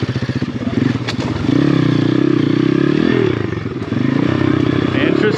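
A pit bike fitted with a swapped-in 150cc engine rides mountain single track, its engine close and loud with a rapid, rattling exhaust pulse that rises and holds as it pulls, over clattering and scraping from the trail.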